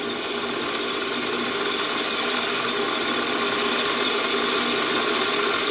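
A Warco lathe spins at about 900 RPM in a workshop, giving off a steady, moderate mechanical whir and hum that stays even throughout with no speech.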